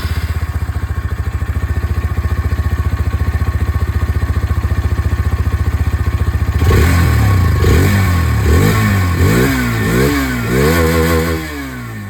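A Hero Xtreme 160R 4V motorcycle exhaust, loud and close, idling with a steady throb and then blipped through several sharp rising and falling revs.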